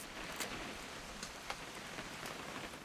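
Soft steady rain patters on surfaces in a quiet game scene from What Remains of Edith Finch, a faint continuous hiss with a few louder drops standing out.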